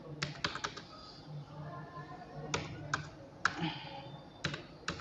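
An address is typed on a computer keyboard into MS Word, with quiet, irregular bursts of clicky keystrokes, a few sharper taps standing out, and no voices.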